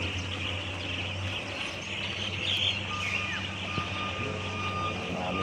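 Reversing beeps from trucks in a busy yard sound as a steady repeating alarm tone over continuous engine rumble and outdoor noise, with faint bird calls, at moderate distance and with no talk.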